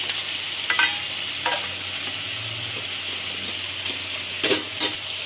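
Spiny gourd slices fry with salt and turmeric in a pan, a constant close hiss of sizzling oil broken by a few brief scraping stirs.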